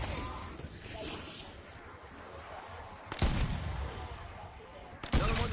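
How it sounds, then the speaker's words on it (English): Two heavy cannon blasts from a video game crack out a couple of seconds apart, each a sharp, loud burst over low background rumble and muffled game noise. "cannon going hot"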